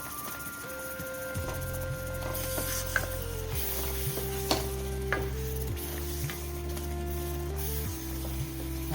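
Chana masala spices simmer with a splash of water in a pan, a continuous sizzle and bubbling with occasional stirring scrapes, close and steady throughout.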